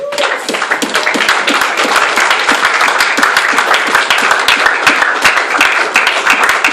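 A church congregation breaks into dense, sustained applause during a Sunday service, with many hands clapping loudly and steadily throughout.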